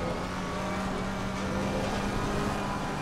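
Race car engines droning at COTA in a racing game among a BMW, Mercedes and Lamborghini, a steady loud engine roar with a sustained tone and no talk.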